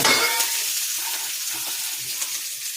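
Garlic frying in a pan with green mango and sardines for a fish curry, a bright close sizzle that flares at first, then settles into a steady crackling hiss with a few soft stirring knocks.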